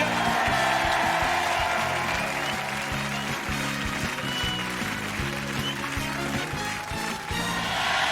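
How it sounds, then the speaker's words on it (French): A television game-show studio audience applauds loudly and steadily over music, a dense, continuous wash of clapping that stays full from start to finish. "On peut les applaudir très très fort"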